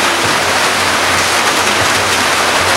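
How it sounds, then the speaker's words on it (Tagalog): Rain falls in a loud, dense, unbroken hiss that fills the whole short stretch with no talk over it. "Mabuti may ulan."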